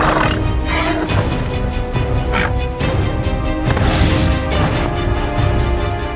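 Two wild stallions fighting at close range, loud rough neighs and squeals over a dense clatter of thuds and scuffling, with sharp impacts scattered throughout.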